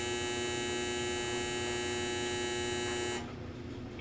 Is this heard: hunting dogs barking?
no